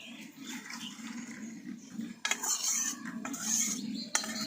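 A pot of boiled sugar syrup for bread pantua lifted off a kitchen stove, with a few sharp metallic clanks and scrapes over a steady low hum, close and fairly quiet, no voices.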